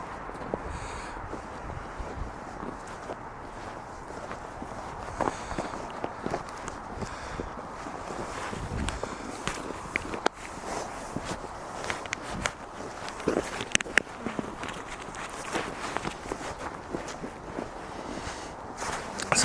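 Footsteps sound while someone walks outdoors holding a Fuji X-T3 camera, a continuous run of soft thuds and scuffs with handling rustle and light wind noise, steady and close, with no talking.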